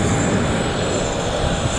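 A small airplane's engine drones as a steady, loud broadband roar throughout, close by and continuous with no talking over it.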